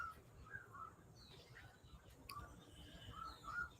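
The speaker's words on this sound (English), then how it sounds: "Some cows, but also many, many birds." Birds call outdoors in the evening on land being restored from desert, with faint, scattered short chirps and calls at a distance over a soft background hush.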